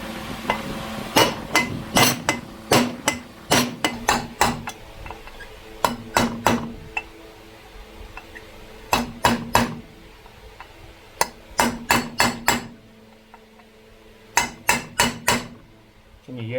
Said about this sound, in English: That's why we use a copper hammer, because the copper is softer than the metal